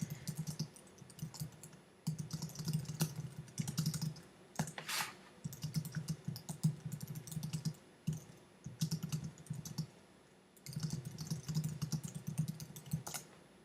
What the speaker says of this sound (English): then I would type it in